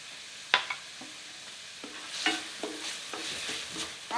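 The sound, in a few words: onions frying and stirred in pan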